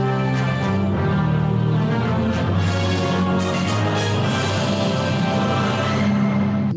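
Layered orchestral music built from instrument samples played by one person on a keyboard, with sustained full-bodied chords and a steady, dense texture throughout, no voices.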